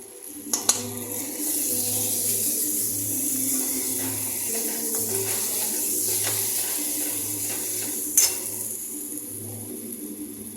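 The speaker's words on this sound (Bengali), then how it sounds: "তো এটা প্রায় কষানো হয়ে আসছে।" Onion pakora gravy with yogurt and turmeric is sautéed in a pan, giving a steady, close sizzle with a couple of sharp utensil clinks over a low, pulsing background hum.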